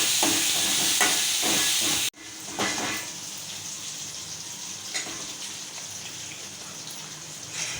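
Chopped okra sizzles in a pan with softened onions, a loud, bright hiss that cuts off abruptly, then resumes as a steadier, slightly quieter crackle.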